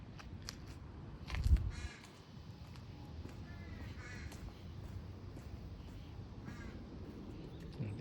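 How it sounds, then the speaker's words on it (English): Crows caw repeatedly from a distance in a Seattle garden in August, scattered harsh calls over quiet outdoor background with a brief louder rustle early on. "Look at those crows over there, making so much noise."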